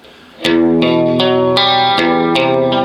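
An electric guitar with bridge and middle pickups blended and volume lowered plays a sequence of clear, sustained chords with a warm, slightly chorused tone, each strum ringing into the next.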